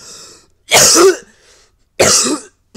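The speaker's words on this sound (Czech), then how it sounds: "Kašlík." Two harsh, close coughs a little over a second apart, loud and dry, with a faint throat noise before them and no talking.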